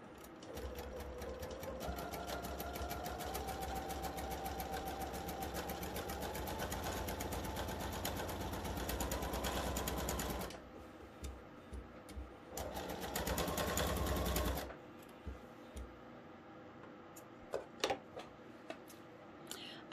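A sewing machine stitches quilt pieces for diamond-in-a-square and square-in-a-square blocks at a 1/4 inch seam, running in a steady continuous whir for about ten seconds, pausing, then a second short run followed by faint handling clicks.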